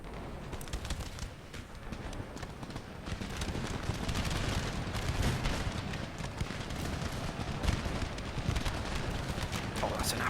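Line infantry volley fire in the Empire: Total War strategy game, a rolling, crackling barrage of musket shots layered into a continuous dense rumble across the battlefield, with voices mixed underneath.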